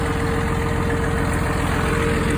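A Farmall tractor engine runs steadily while pulling a manure spreader, a close, loud, even low-pitched chugging drone throughout.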